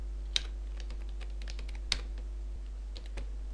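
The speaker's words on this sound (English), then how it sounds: "And now type the following codings." Computer keyboard typing while code is entered in Visual Studio, with soft scattered keystrokes, a few louder isolated clicks, and a steady low hum throughout.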